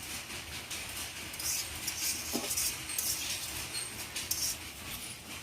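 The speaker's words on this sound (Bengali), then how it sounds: "এখন এই যে কড়াইটা দিয়ে দিলাম।" Metal wok (kadai) being set down on a lit stove in a home kitchen before making a fish bhorta: a few light metallic clinks and scrapes over a steady background hiss, with no voices.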